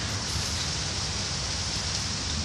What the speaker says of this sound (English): I know it's a calm, soothing rain sound here in the background